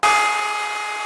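A router fitted with a 1/4 inch bearing-guided trim bit bites into wood with a sudden high whine that holds steady and loud for about a second.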